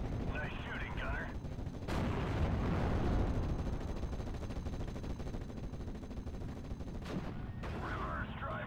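Tank cannon and machine-gun fire in a Normandy 1944 battle game, a dense, continuous roar of shots and blasts with a heavy burst near the start, with voices talking over parts of it.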